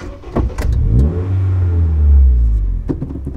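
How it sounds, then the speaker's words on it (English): A 2008 Honda Fit with an HKS high-power aftermarket exhaust revs hard up close, its deep exhaust note rising and swelling into a loud, rumbling roar before dropping back. "I also have an HKS high power exhaust."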